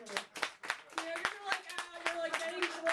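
Scattered hand claps from a comedy club audience at the Raven Lounge, about ten sharp, uneven claps over a few seconds, fairly close, with a voice sounding underneath.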